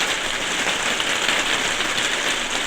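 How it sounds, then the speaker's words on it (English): Heavy rain pours steadily in the UK, a dense, loud hiss of drops hitting surfaces with no pauses and no voices. "It is absolutely pouring with rain in the UK"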